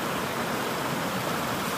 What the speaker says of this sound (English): So we're walking over there and you can see the waterfalls.